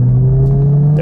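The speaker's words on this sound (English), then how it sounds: "There's a downshift." A car engine hums steadily and loudly during a DSG gearbox downshift, with a rising engine note at the very end of the one-second moment.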